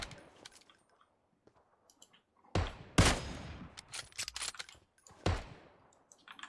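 Gunfire from the mobile battle-royale game PUBG Mobile: a few sharp, loud shot bursts stand out against near silence, with a scattering of fainter clicks and smaller reports between them.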